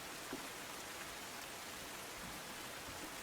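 Heavy monsoon rain in Sabarkantha, Gujarat, falls in a dense, unbroken hiss, steady and even throughout with no other sounds.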